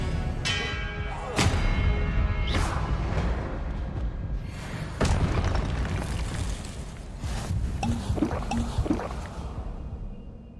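Spells go off in Hogwarts Legacy during a duel, with several sharp magical bursts and ringing, booming impacts over a low rumbling backdrop.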